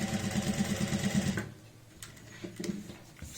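A sewing machine stitches a border strip in a quick, even run of needle strokes for about a second and a half, then stops, leaving faint handling noises.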